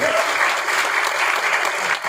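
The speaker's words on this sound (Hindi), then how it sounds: "एक बार जबरदस्त ताली होनी चाहिए" Dense crowd applause at a seminar in Agra, steady and loud throughout the short stretch with no voices over it.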